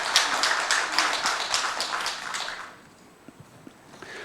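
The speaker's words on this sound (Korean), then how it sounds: "우리 하나님께 영광의 박수를 드립니다." A church congregation claps together in a brisk, even rhythm for about two and a half seconds, then the clapping stops and only a few faint taps remain.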